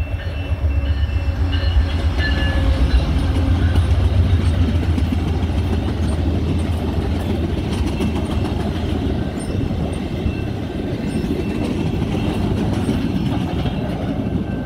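VIA Rail passenger train 75 running past on a detour route during track work, a loud steady rumble and rolling clatter of wheels close by for the whole stretch, with no horn.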